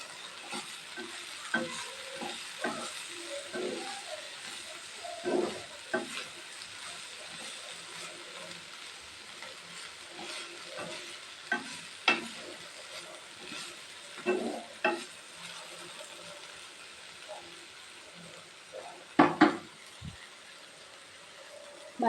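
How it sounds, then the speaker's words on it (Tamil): Cluster beans tossed with garam masala and onion powder in a frying pan, spoon scraping and stirring in irregular bursts over a soft, continuous sizzle. "சேர்த்து இது எல்லாத்தையும் நல்லா மிக்ஸ் பண்ணிக்கலாங்க."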